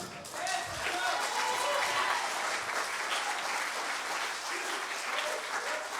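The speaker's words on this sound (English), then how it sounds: "I don't hear nobody clapping." Church congregation applauding during a revival service, a sustained wash of clapping that swells after a moment and carries on throughout, moderately loud in a large room.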